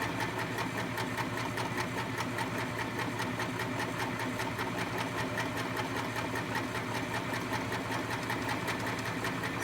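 Threaded sewing machine stitching fabric under foot-pedal control, producing a steady, fast mechanical whir and rhythmic needle chatter that continues evenly at moderate volume, with no voices.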